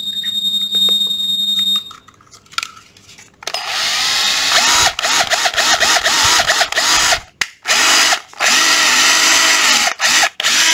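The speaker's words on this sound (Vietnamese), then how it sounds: "đây là con khoan Ryobi 12V, đầu kẹp 10 ly" A Ryobi 12V cordless drill with a 10 mm chuck and two speed settings sits through a couple of seconds of thin tonal whine, then whirs loudly up close, its motor cutting out and restarting in several short stops.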